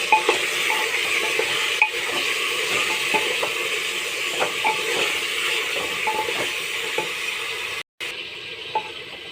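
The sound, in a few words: onions and mutton frying in a pan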